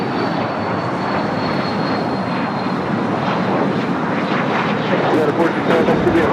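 Airplane taking off from runway 25 right at LAX, a loud, steady broadband engine roar that holds strong throughout, while people talk over it.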